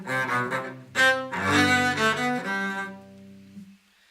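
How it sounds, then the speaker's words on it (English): A solo cello plays a short melodic phrase of a few sustained bowed notes that ends on a fading final tone, heard close and alone with no talk. "Here's an example on the cello."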